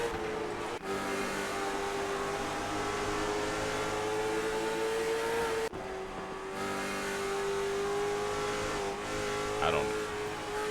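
A race car engine in iRacing, a CARS Tour car at Five Flags oval held at full throttle, droning loudly and steadily with a high sustained pitch, broken by two brief cuts in power.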